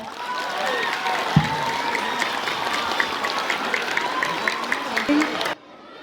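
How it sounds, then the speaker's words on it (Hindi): Students at a sports meet clap loudly, dense crowd applause with shouts mixed in, holding steady for several seconds before cutting off abruptly near the end. "अगर आप रेडी हो तो एक बार जोरदार तालियां बजाओ"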